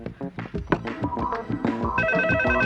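A phone ringtone plays, a bright repeating electronic melody that steadies into a sustained ringing pattern toward the end, fairly loud with no talk.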